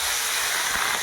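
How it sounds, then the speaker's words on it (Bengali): Khoira fish slid into hot oil in a kadai (wok), setting off a loud, dense hissing sizzle that holds steady for about a second. "এই দেখুন কড়াইতে ছেড়ে দিল মাছগুলো"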